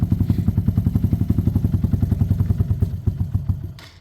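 Motorcycle engine idling on the choke while warming up, a steady close, loud rhythmic chugging of evenly spaced firing pulses that softens slightly toward the end.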